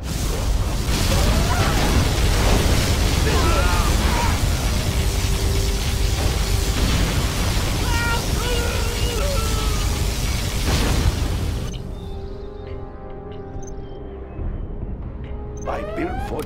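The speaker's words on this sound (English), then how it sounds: "Warning, particle cannon activated." A particle cannon blast from the C&C Generals strategy game roars as a loud, sustained rumbling explosion, dense and continuous for about twelve seconds before dropping away to quieter game effects.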